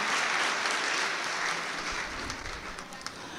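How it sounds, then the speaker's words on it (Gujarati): An audience at an international education policy conference claps to welcome a speaker, making a dense, even wash of applause that holds throughout and tapers slightly near the end. "આપને અરબીના હોકારા જેવા અમારા તાળીઓના અવાજ સાથે, ગડગડાટ સાથે વધાવીને વેલકમ કરું છું"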